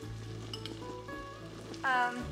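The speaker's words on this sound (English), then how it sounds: "Now I'm gonna add some tomatoes." Tomatoes tipped into a hot frying pan with chicken, a steady sizzle and crackle of frying running throughout, with a louder burst of hissing near the end as they hit the oil.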